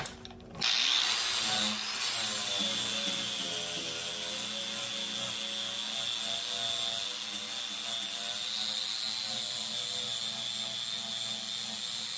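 A power tool grinding paint off rusty metal before welding runs in a loud, continuous whine for the whole stretch after a short start-up, close and steady with no speech.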